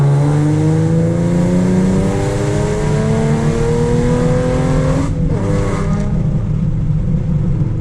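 A Ford Mustang 3.7 V6 is pulled at full throttle from 2,500 rpm. A loud, steady engine roar climbs in pitch for about five seconds, then abruptly drops back and settles, heard up close.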